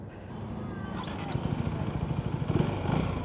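KTM Duke 390 motorcycle engine running steadily while riding out on a highway, a continuous low drone with wind rush and slight rising pulses near the end.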